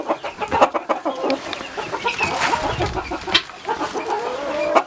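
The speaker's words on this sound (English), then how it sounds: "I have a breeder set of 2 silky hens and a silky rooster" Buff-colored silkie hens and a silkie rooster clucking and murmuring close by, a busy run of short, overlapping clucks and soft trills with no talking.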